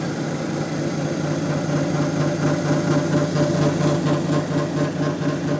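A lapidary polishing wheel spins steadily while tiger eye cabochons are polished, giving a loud, even motor hum with a constant droning vibration throughout and no talking.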